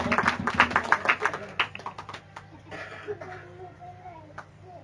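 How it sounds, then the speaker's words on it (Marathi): Church congregation breaking into a burst of hand clapping, loud and rhythmic at first, then thinning into scattered claps with faint voices in the room. "त्या प्रभूसाठी जोरदार टाळ्या वाजवा."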